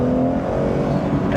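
BMW M240i with its resonator deleted, pulling hard in second gear: a loud, continuous engine and exhaust drone that stays close and steady for about a second and a half, with no voices over it.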